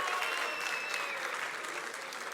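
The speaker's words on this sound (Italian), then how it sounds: "Lui, un applauso a lui, ragazzi, facciamo un altro applauso" Audience applause at a school event, a dense, steady clapping from a crowd filling the whole moment, with no voices standing out.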